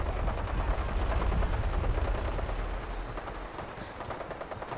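Sustained rapid gunfire in the Fallout 4 video game during a settlement raid, loud and dense throughout, with bursts overlapping one another and no voices.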